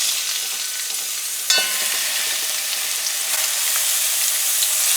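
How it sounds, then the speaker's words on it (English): Steady, close sizzling of chicken feet frying in a hot pan, with a brief clatter as something is stirred or added partway through. "we're gonna fry up our chicken foot here"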